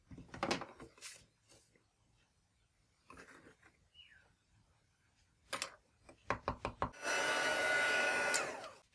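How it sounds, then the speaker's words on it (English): A heat gun blowing steadily to melt white embossing powder on a card-making project, its broad hiss rising loud and continuous near the end after scattered handling clicks and knocks. "I'm going to sprinkle on some white embossing powder and I'm going to heat set that till it melts."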